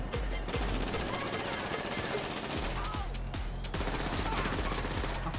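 Rapid machine-gun bursts and repeated gunshots from GTA V, loud and nearly continuous with sharp cracks over a dense game soundscape, with voices faintly under the shooting.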